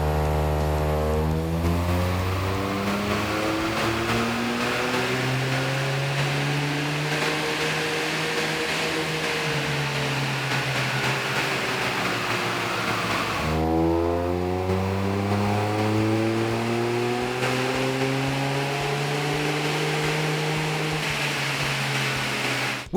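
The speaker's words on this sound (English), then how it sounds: "Now to run again with the Tuner's Edge catback exhaust." A Toyota GR Yaris fitted with a Tuner's Edge catback exhaust revs hard on a dyno in two long pulls, the engine note climbing steadily through the gears, loud and close with no talking.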